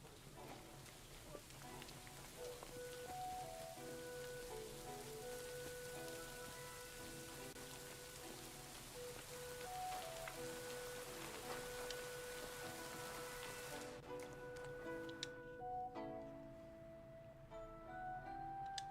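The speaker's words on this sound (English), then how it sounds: "It'd be better if it wasn't raining, though" Steady rain falling in a video game, a continuous soft patter under game music and occasional faint voices.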